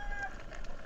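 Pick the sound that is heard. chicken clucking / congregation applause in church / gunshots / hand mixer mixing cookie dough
chicken clucking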